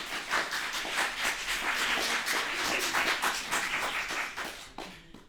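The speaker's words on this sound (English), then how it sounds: "You can give a round of applause." Applause from a student election audience, a steady patter of many hands clapping at moderate distance that swells, holds and then trails off sharply near the end.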